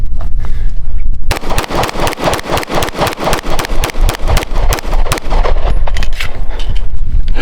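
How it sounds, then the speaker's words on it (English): Ruger RXM pistol fired rapidly at a range target, a long string of loud, sharp, closely spaced shots in a fast, slightly uneven rhythm, heard alone without talk. "We're gonna rapid fire it into that target in the center and just see kind of what group you get"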